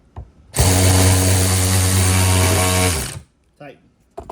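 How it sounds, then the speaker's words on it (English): Power ratchet buzzing steadily for about two and a half seconds as it tightens a 360 camera mount onto a Sea-Doo personal watercraft, loud and close, followed by brief clicks and handling noises. "Whether you use a power ratchet or a handheld ratchet, guys, do not over tighten these."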